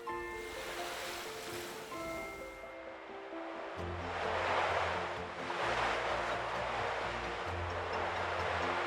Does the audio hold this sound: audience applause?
no